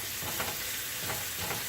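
Bacon frying crisp in a pan gives a steady, dense sizzle with soft crackles and faint stirring scrapes throughout.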